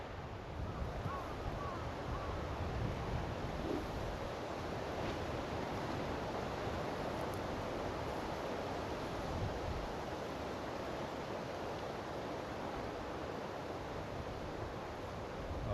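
Strong wind blows across open water on a fishing outing near Yoshino, a loud, steady rushing roar with lapping water beneath it.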